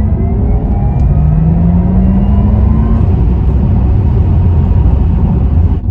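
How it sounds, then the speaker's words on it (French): Porsche Taycan electric sports car with its amplified artificial motor sound, a loud, close synthetic hum with a rising whirring tone, like acceleration, sustained throughout over a low rumble. "ils ont pris les bruits des moteurs, ils les ont amplifiés, que ce soit à l'extérieur et à l'intérieur, et au niveau du son, ça donne ça"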